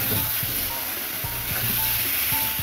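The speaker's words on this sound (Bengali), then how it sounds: "এর মধ্যে একটু নুন আর একটু হলুদ দিয়ে কষে নেবো এটাকে, যতক্ষণ না তেল বেরোচ্ছে" Taro (kochu) curry fries in oil with salt and turmeric, giving a steady loud sizzle and hiss with occasional low scraping knocks of stirring. Close and continuous, with no voices.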